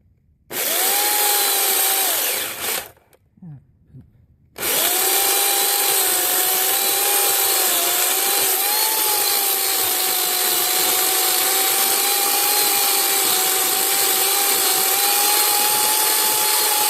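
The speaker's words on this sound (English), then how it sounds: "I know this is not the chainsaw I should be using for this" A chainsaw roars at high revs while cutting down a tree, cuts out briefly with a sputter, then restarts and buzzes steadily as it bites through wood, loud and close.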